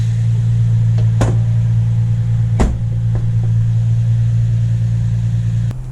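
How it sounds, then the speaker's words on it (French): A Nissan 350Z idles steadily just after starting, with a low constant engine drone close by and a few brief clicks over the hum. "La voiture commence à monter en température et descendre en ralenti"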